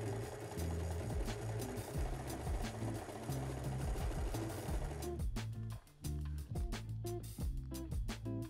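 A sewing machine stitches a folded trouser hem with a close, steady mechanical whir and rhythmic needle thumping, then slows into a looser run of clicks and taps after a brief pause.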